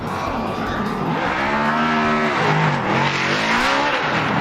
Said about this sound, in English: there's a really great audio coming off the FPV drone. You can actually hear both cars very well